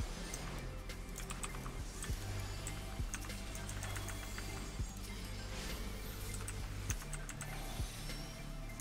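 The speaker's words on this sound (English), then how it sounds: "I can hear the clicks of my keyboard, and it's distracting." Computer keyboard typed on during a cosplay stream, with a steady, close run of small clicks and taps continuing throughout over a constant low background hum, with no voices.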